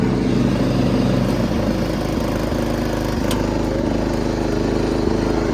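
A riding lawnmower's engine runs at a steady, even drone, close and continuous without pause and with no voices over it.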